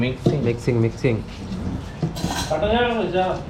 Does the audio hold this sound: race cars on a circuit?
no